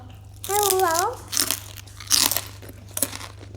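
Crunchy bites and wet chewing of a spicy Thai pounded octopus tentacle salad with cucumber, heard as several crisp bursts up close after a short hummed voice at the start.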